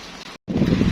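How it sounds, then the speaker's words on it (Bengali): Heavy rain arrives at a village home as a dense, hissing wash of sound close by, briefly cut out for a moment before returning even louder. "বলতে বলতে একদম জোরে বৃষ্টি চলে আসছে।"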